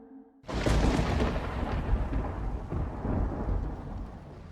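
Thunder rolls through a storm: after a brief quiet moment, a loud, deep rumble breaks in and stays heavy, slowly fading over several seconds with no voices.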